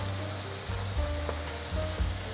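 Vegan patties of sweet potato, carrot and flour pan-frying in oil, a continuous close sizzle over a low steady hum, with faint shifts as they are pushed around the pan.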